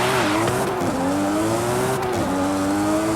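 A 2000 Nissan Skyline GTR V-Spec engine drones loud and close at high revs, its pitch wavering and dipping briefly as it shifts, with no talk over it.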